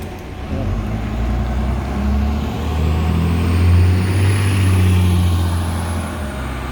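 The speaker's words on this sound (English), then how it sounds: "I think the bus is going to go now." A bus pulls away from a stop in Stanley, its diesel engine rumbling and rising as it accelerates, loud and close, with no talk.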